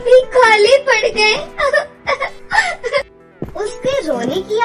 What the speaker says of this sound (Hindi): उसके रोने की आवाज सुनकर रानी परी वहाँ पर आ गई